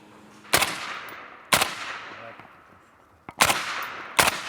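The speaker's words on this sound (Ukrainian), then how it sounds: "Ми приїжджаємо сюди стріляти." Four loud gunshots crack out at irregular intervals at a shooting range, each followed by a long echoing decay across open ground.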